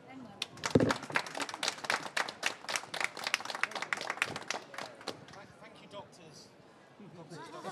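Audience applause for four expert panelists at a conference session on artificial intelligence, a dense burst of clapping that peaks early and then thins and fades over several seconds, with voices mixed in.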